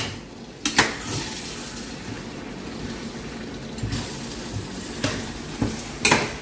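Fried chicken and instant Indomie noodles being tossed together in a skillet cooked without oil: soft stirring and a few sharp utensil clacks against the pan at irregular moments over a faint sizzle, with no talking.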